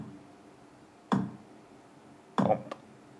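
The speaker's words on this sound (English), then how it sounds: "And then I also have like the kick" A kick drum sample, two separate hits about a second apart, each a short, punchy thump with a quick decay over a quiet background.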